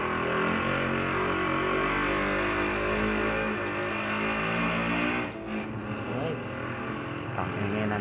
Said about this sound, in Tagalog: Pakinggan ng tricycle.